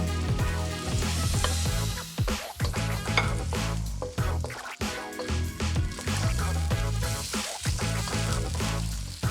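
Ginger sizzles loudly in a hot pan for a beef stir-fry while a utensil stirs and scrapes it in repeated strokes, close and continuous, with little talk.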